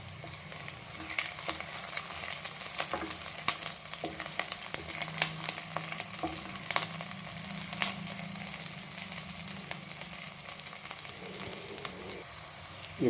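Curry leaves sautéing with golden-browned onions in a pan for a brinjal potato chicken curry, a steady close sizzle and frying crackle running throughout with occasional stirring scrapes, no talking.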